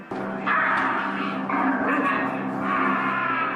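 A dog that has turned aggressive barks and whimpers in sharp, close bursts, with yelping cries rising and falling over roughly three and a half seconds of steady, loud sound.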